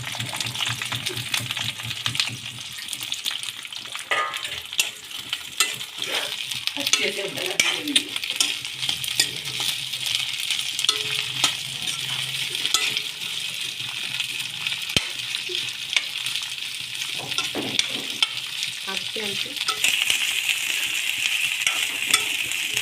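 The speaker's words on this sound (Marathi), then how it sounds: "असे तेलामध्ये वांगे फ्राय करून घ्यायचे आहे." Cut eggplant pieces frying in oil in a pan, a continuous close sizzle with stirring and occasional utensil scrapes, no voices.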